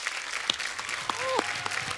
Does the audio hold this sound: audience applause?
yes